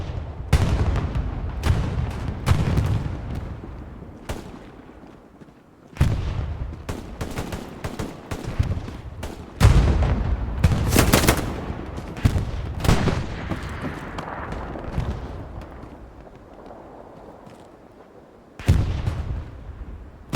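Machine gun and rifle fire ring out in a competitive Omaha Beach match of a war video game, with loud sharp bursts and single cracks in uneven clusters, heavy booming impacts, and brief lulls between volleys.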